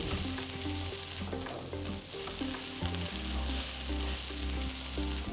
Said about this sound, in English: Mix it well and let the greens cook nicely.